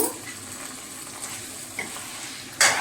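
Chicken with turmeric fries in a pan, giving a soft, steady sizzle with a few light clicks and a brighter burst of hiss at the end.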